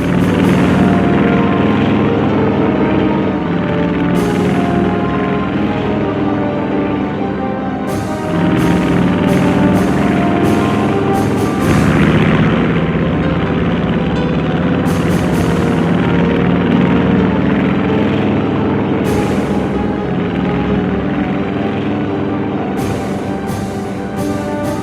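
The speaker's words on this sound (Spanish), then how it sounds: "la primera oleada de 183 cazas, bombarderos y aviones torpederos" A wave of World War II fighters, bombers and torpedo planes drones overhead, a loud sustained propeller-engine roar rising and swelling in pulses over about twenty-five seconds.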